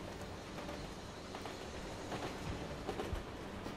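A moving train in the video game Assassin's Creed Chronicles Russia gives off a faint, steady rumble with soft scattered clicks and rattles.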